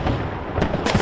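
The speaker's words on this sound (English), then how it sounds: "Fireworks around Berlin's Brandenburg Gate" New Year's fireworks burst around Berlin's Brandenburg Gate amid a dense crowd roar, with two sharp cracking bangs standing out over the continuous festive din.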